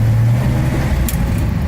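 A car engine drones low and steady from inside the cabin as it drives along, a continuous close rumble with a brief higher rattle partway through.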